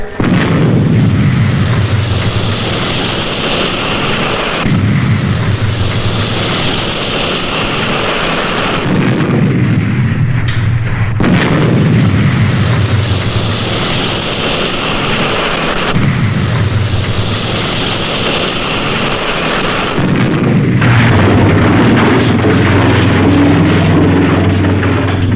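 Explosions fire repeatedly as a sound effect for the Supercar TV series. Loud, deep booms come roughly every five seconds, each rolling off into a long rumbling decay, with no talking.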